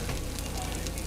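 Italian Parmesan chicken fresh from the oven sizzles in a steady, even crackling hiss, close and constant, with faint voice underneath.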